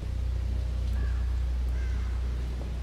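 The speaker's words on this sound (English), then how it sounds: "There's a crow there." Crow cawing in the horror game The Evil Within, two brief distinct caws over a low steady ambient hum.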